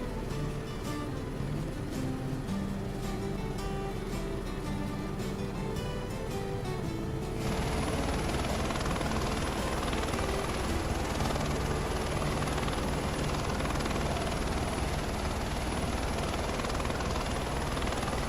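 An H130 helicopter flying over Chilean Patagonia in Microsoft Flight Simulator 2024, a loud, constant rotor and turbine drone that fills the whole stretch and shifts in tone partway through, with no talk.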